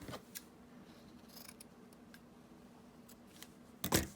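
Scissors snip fabric for a handmade junk journal envelope: a few faint, scattered clicks over a quiet room, ending in a louder, crisp burst of cutting.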